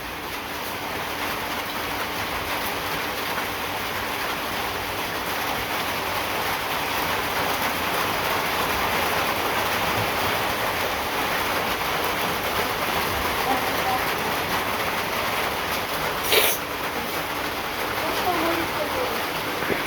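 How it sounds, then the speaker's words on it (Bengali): Rain falling outdoors in a village, a steady even hiss of drops throughout, with a brief sharp knock partway in. "এই দেখেন বৃষ্টি নামছে।"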